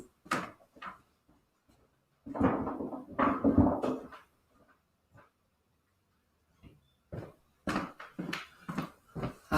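Quiet domestic knocks and thuds of a bathroom door being opened come in scattered bursts with short silences between, close by and with no voices.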